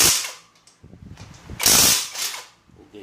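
A brushless 1/2-inch drive impact wrench loosens a 19mm bolt torqued to 100 foot-pounds, firing a few short, loud rattling hammer bursts close by, separated by brief pauses.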